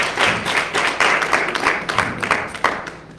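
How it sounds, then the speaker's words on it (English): A church congregation claps their hands in praise, a dense run of close, loud claps that keeps a rough shared beat for a few seconds with no talking. "Let's give a little hand clap of praise."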